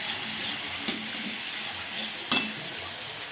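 Cabbage curry with peas and tomato sizzles steadily in a wok while it is stirred, two soft clinks of the spatula against the pan standing out over the frying hiss.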